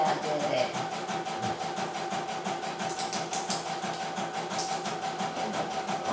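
A machine runs steadily and smoothly throughout, a continuous mechanical whirr with a fast repetitive stitching-like rhythm and a steady tonal hum, close and evenly loud, with faint background voices now and then.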